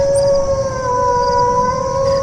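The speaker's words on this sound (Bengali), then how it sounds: "চারিদিক থেকে শুধু কুকুরের কান্নার আওয়াজ।" Dogs howl at night in a still Bengal village, a long, loud, steady wail that holds one drawn-out pitch for about two seconds, heard alone as a sound effect.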